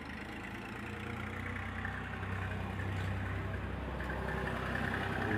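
Toyota Corolla engine idling steadily just after starting, a continuous low rumbling hum close by with a slight rise in level partway through, no talking over it.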